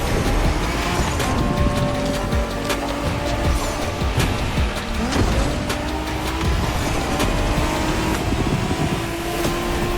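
A game car's engine hums steadily while driving through Tokyo-style streets in The Crew Motorfest, with gear shifts and rising revs over a continuous road and wind wash.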